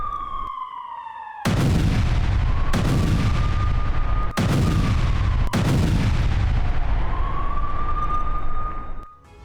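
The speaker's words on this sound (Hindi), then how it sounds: "लेबनान से सटे बॉर्डर इलाकों में बमबारी की गई है।" Israeli bombardment and artillery fire strike Hezbollah positions near the Lebanon border: four heavy, loud blasts arrive at roughly even intervals, each with a rumbling tail, while a wailing siren-like tone rises and falls underneath.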